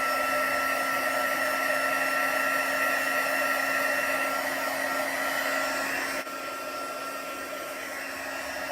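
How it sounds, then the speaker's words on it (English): Stampin' Up heat gun blowing steadily to melt embossing powder on a card, a loud continuous close whir with a faint tonal hum that drops slightly in level partway through, no talking. "So now it's going to get a little bit noisy because I'm going to use my heat gun"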